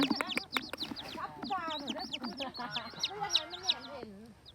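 Chickens cluck and call close by in a rural yard, a busy run of short squawks and rising clucks that overlap, with people talking underneath.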